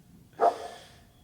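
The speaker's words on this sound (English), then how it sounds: "That dog is... I've heard that dog too many times" A dog gives one short, muffled bark at a distance, heard through a quiet room and fading quickly.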